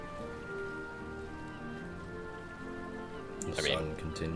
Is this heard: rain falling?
yes